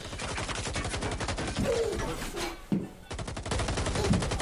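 Rapid automatic gunfire from a competitive shooting video game match fills the whole stretch with dense, repeated bursts that pause briefly near the middle before resuming loudly, with no talking.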